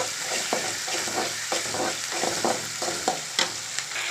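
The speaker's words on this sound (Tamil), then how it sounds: "வெங்காயம் நல்லா வதக்கிக்கலாம்." Onions sauté in hot oil in a frying pan, a steady sizzle broken by repeated scraping stirs at a quick, regular rhythm, close and fairly loud with no talking.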